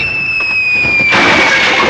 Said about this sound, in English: I thought there was a cannon in this one